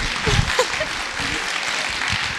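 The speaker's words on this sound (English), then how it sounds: "let's have a round of applause for all of our performers." Audience applause for performers at a school talent show, a steady wash of clapping with some cheering mixed in.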